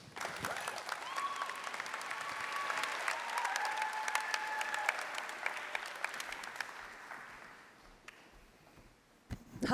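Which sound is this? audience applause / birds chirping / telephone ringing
audience applause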